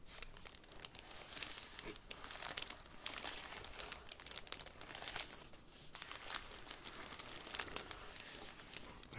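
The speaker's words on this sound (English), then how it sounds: "muted quality to the high end of this crinkling." A packaging layer from a gimbal unboxing is handled close up. It gives soft, continuous crinkling and crumpling with occasional sharper crackles, fairly quiet, with no talking.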